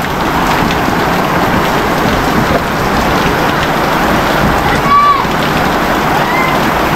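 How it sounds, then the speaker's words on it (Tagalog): Steady, dense rainfall hisses across the whole stretch, loud and continuous, with a brief faint tonal chirp near the end. "sobrang lakas ng ulan."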